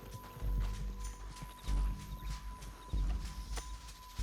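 Horse hooves clip-clopping in the Western video game Red Dead Redemption 2, steady repeated thuds close by with brief louder bursts, alone with no talk.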